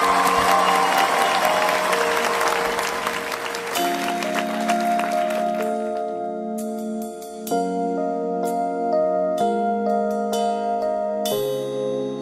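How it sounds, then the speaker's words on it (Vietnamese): An audience at a televised singing competition applauds a contestant in a dense burst for about four seconds, then fades as sustained piano and musical tones take over. "một tràng pháo tay chúc mừng cho Nhã Thanh"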